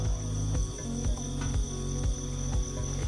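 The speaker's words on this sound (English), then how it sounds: "Lots of crickets and frogs." Crickets chirping at dawn at Angkor Wat beside a pond, a loud dense pulsing chorus with a steady high tone and rhythmic bursts about every half second, close by.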